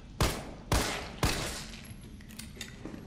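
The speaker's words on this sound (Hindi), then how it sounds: "मैं दो गोली एक्स्ट्रा ही मारूंगा भाई" Three sharp gunshots fired in close succession in Resident Evil 3, each a loud crack with a short decaying tail, followed by faint clicks and ambient game noise.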